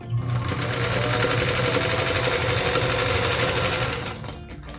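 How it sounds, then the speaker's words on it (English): A sewing machine stitches a quarter-inch seam on fabric for a Wandering Star quilt block, running in a loud, continuous close whir for several seconds before slowing and stopping. "So I'll sew one just to make sure that I sewed it correctly"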